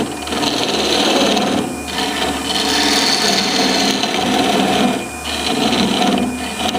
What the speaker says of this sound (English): My parting tool will remove that entire piece.